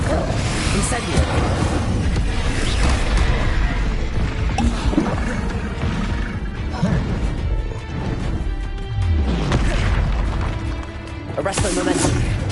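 Spell effects from combat in Hogwarts Legacy, with Incendio fire bursts among other spells, a dense, loud mix of whooshing flames, crashes and impacts in quick succession, with a voice speaking throughout.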